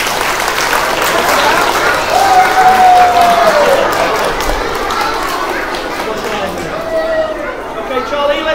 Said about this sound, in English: Well, a round of applause for Sally.